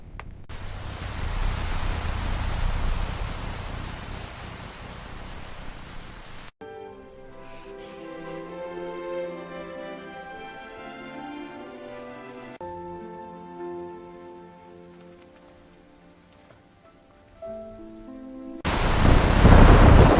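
Rain and thunder are heard outside a parked van, heavy roaring rain noise at the start and end framing a quieter stretch of soft melodic music in between.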